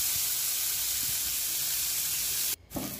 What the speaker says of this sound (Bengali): হালকা একটু ভাজা ভাজা করে নেব পেঁয়াজটাকে